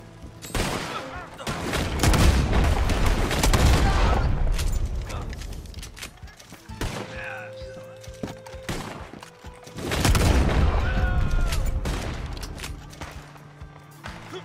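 Elephant Rifle shots in Red Dead Online: heavy, booming gunfire rings out in two dense clusters with mechanical clatter between them, loud and close.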